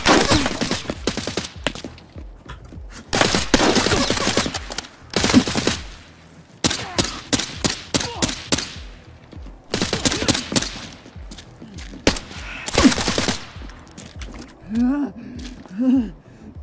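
Gunfire in the video game Arena Breakout Infinite: repeated bursts of automatic fire and single loud shots in close succession, with short pauses between volleys and brief voices near the end.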